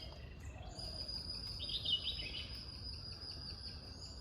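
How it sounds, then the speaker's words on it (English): A Tickell's flowerpecker gives thin, high chirps at Hesaraghatta Lake over a steady high insect-like drone and a low outdoor hum, the calls short and fairly faint, with no one speaking. "You can hear the Tickle's flowerpecker."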